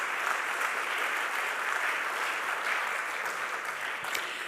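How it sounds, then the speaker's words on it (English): Steady, sustained applause from a large audience fills a music theatre during a democracy forum, dense clapping continuing evenly throughout with no voices on top. "Give them a big round of applause."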